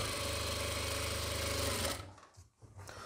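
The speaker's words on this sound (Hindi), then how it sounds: "और इस पर सिलाई लगा लें।" Sewing machine stitching a salwar cuff (mohri), a steady, fast, loud mechanical whir with a rapid rhythmic clatter for about two seconds, then stopping abruptly and leaving faint handling noises.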